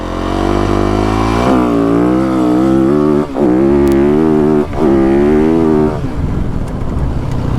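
A Yamaha YZ450F dirt bike launches from a starting gate using launch control, its engine loud and close, revving up in repeated rising pulls through the gears before easing off.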